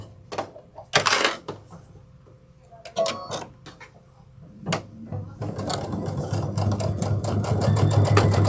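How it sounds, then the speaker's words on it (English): A sewing machine top stitches a backpack at a long stitch length, starting with short stop-start bursts and clunks, then settling into a steady fast close rattle that grows louder toward the end. "Just remember to keep that stitch length about a 4 for top stitching."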